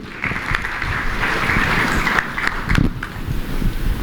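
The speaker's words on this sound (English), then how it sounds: "can we have a huge round of applause for Mr." Sustained applause from a conference audience at a supply chain summit and awards event, a steady dense wash of clapping lasting about four seconds with no break.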